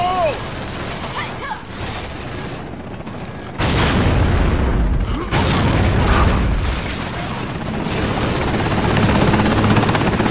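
A grenade goes off in a Gears of War team deathmatch: a sudden loud booming blast midway that swells into a sustained heavy rumble, with a voice talking over the game noise.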